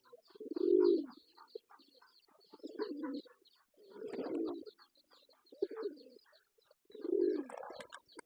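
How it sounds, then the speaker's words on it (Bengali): Pigeons cooing on a rooftop in several low, rounded bursts with pauses between, fairly close, against a quiet outdoor background. "অনেক কবুতর এই ছাদে উঠে গেছে উপরে উঠে গেছে"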